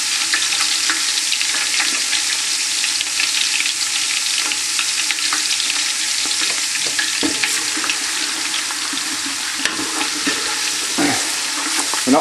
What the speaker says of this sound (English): We're not trying to brown the garlic, all we're doing is just cooking some of that rawness out of it.